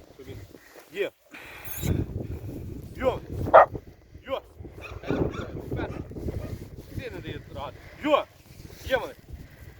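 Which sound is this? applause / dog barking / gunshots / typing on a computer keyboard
dog barking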